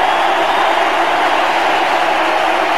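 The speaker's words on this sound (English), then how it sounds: "Looks a little bit of booing also from the crowd" A cricket crowd in a packed Bangalore stadium during an India versus Pakistan Test, a steady dense roar of massed voices with a low booing undertone, continuous and loud throughout.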